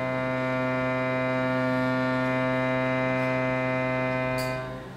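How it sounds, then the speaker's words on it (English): Shruti box sounds a steady, rich harmonic drone, held evenly and close at moderate loudness for several seconds, then fading out at the end in a sound meditation setting. "That's the sound of a shruti box."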